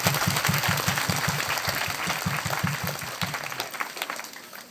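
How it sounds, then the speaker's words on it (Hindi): A church congregation at a Christ the King feast prayer gathering claps loudly, a strong rhythmic beat of hands in steady time that stops abruptly near the end. "इसलिए उन तीनों के लिए जोरदार तालियां बजाएंगे।"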